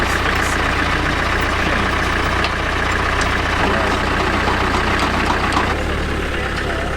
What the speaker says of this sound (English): Gotta love that diesel.